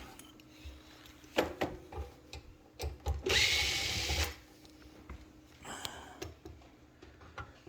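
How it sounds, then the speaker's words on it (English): A screw gun whirs in one sustained burst to back out the screws of a moving head light's base plate, with scattered clicks and handling knocks before and after. "So we're going to take our screw gun, take off the base plate."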